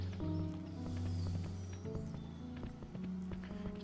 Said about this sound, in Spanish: Corre, corre un poco, corre un poco, caballo